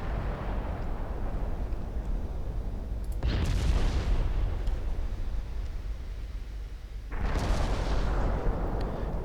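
20-inch naval guns firing in the Ultimate Admiral Dreadnoughts battleship game: two heavy booming blasts a few seconds apart over a constant loud rumbling battle background.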